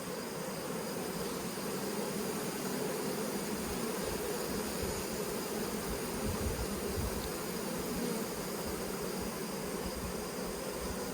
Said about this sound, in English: They're fanning, so that's a good sign.